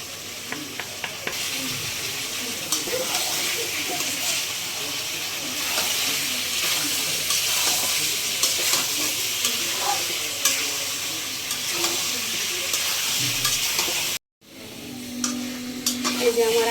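Hog plum pickle with five-spice and crushed dried chili is stirred and fried in a little oil, giving a steady soft sizzle with scraping stir strokes. There is a brief cut near the end, then the sizzling resumes.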